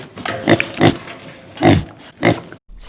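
A pig oinks in a string of five loud, close grunts with short pauses between them, heard alone with no talking.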